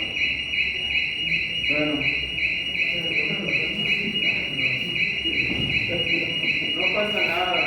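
A building fire alarm rings continuously with a steady, rapidly pulsing electronic tone, loud throughout, while people talk over it.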